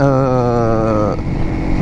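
A supermoto motorcycle being ridden, its engine a steady, loud tonal drone that shifts pitch partway through, with wind noise beneath.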